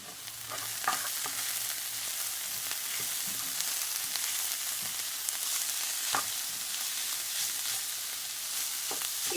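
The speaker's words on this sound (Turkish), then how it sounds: "birkaç dakika kavurup altını kapatalım" A pişi filling with chili flakes, black pepper and salt sizzles steadily in a pan, with the scrape and tap of stirring now and then and no voices.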